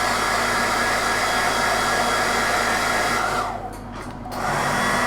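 A hairdryer blows steadily at close range while drying a painted miniature, its broadband roar dipping briefly near the end before returning to full strength.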